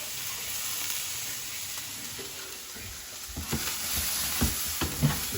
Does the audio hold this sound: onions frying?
yes